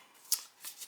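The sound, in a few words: pin scoring the paper backing of fusible web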